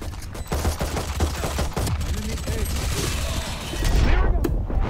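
Rapid bursts of gunfire in the tactical shooter VALORANT crackle through a busy, dense mix, with occasional muffled voices underneath and a heavier low rumble toward the end.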